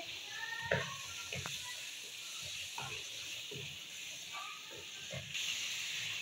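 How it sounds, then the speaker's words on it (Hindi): Chickpeas roasting in a pan for a dhaba-style dish, a faint continuous hiss with scattered soft pops and scrapes, fairly quiet and without speech. "अब हम इनको भूनेंगे अच्छी तरह से भूनना है"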